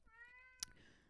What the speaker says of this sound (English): We have a kitty in the video.